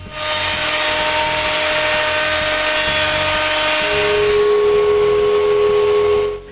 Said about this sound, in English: I round over the interior of the handle and the top of the divider